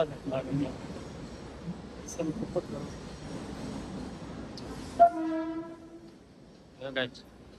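A local commuter train horn blares briefly over background rumble and people talking, then a voice carries on as the noise settles.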